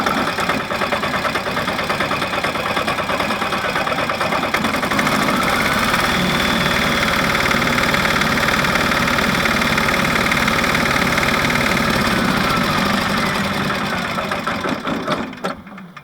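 An early diesel engine on a Westwood ride-on mower with a 42-inch deck runs steadily, with a whirling, turbine-like whine from the tooth belt over a knocking idle, loud and close before cutting off at the end.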